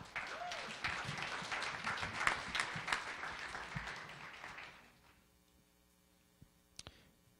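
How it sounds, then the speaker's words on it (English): An audience applauds loudly for about five seconds, the clapping fading away into near silence, followed by a couple of faint clicks. "Let's give him a big round of applause."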